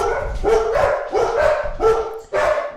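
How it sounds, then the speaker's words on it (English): Two very big dogs bark loudly inside a house, a steady run of about six deep, close woofs in quick succession. "We are recording in a house with two very big, loud, barking dogs."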